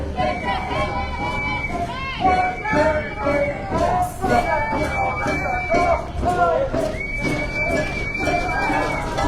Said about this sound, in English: I can assure you it is extremely noisy. A mighty crowd there.